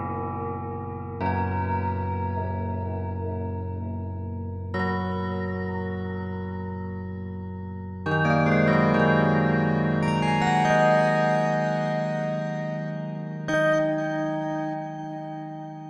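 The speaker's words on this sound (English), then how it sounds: "the Tubular Bells patch." A Tubular Bells synthesizer patch on the Multiphonics CV-3 strikes several struck, bell-like tones about every few seconds, each ringing with long metallic overtones that overlap and decay slowly, with no voices.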